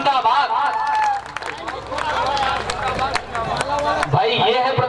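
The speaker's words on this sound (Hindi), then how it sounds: "एक बार तालियां बजा दीजिए" Audience clapping and cheering at an Urdu poetry mushaira in Raniganj, Pratapgarh, a dense crowd noise of applause mixed with shouted voices and babble throughout, loud and close.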